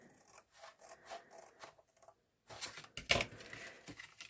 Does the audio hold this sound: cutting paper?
yes